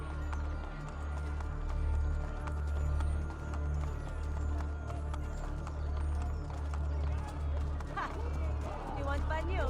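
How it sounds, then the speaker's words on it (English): Horse hooves clip-clop at a quick, steady pace in the Renaissance streets of Assassin's Creed, close and rhythmic over a low ambient hum and faint crowd murmur, with a brief whinny near the end. "My guy, stop hitting us with your horse."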